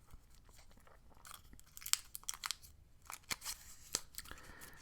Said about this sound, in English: But I will pop some gum in first.